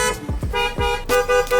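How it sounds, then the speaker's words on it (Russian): A car horn honks in short, loud toots in a city street, with a few quick blasts followed by three evenly spaced honks close by. "этот чертов автомобильный гудок"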